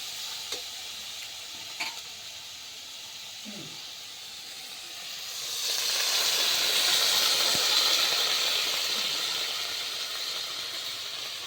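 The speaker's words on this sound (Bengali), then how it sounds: "এবার আমি এটার মধ্যে জল ঢেলে দেবো।" Water poured into a hot frying pan of chili cauliflower bursts into loud hissing steam after a few quiet scrapes, the sizzle swelling then holding steady and slowly easing off.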